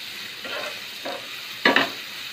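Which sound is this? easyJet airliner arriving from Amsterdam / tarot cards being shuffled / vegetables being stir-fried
vegetables being stir-fried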